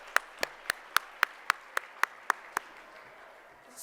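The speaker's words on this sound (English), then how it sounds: "giving everyone here a hand clap and a hand praise" About ten sharp hand claps in a steady, even rhythm at a thank-you reception for peer reviewers and partners. The claps stop partway through, leaving a quiet room.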